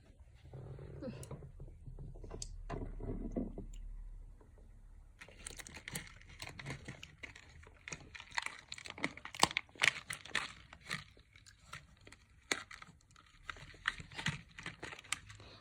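Candy wrappers crinkle and tear in short, crisp bursts as children open sweets, a close rustling texture that grows busier partway through, with no talk.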